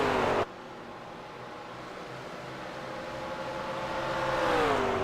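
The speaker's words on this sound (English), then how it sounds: "Coming down the straight, Jose Almeida in that McLaren, passing the other McLaren to Jamie Wilson on the inside" McLaren race cars in the 24 Hours of Spa endurance race drone along the straight with a steady engine whine that slowly rises in pitch and volume as they approach, after an abrupt cut at the start.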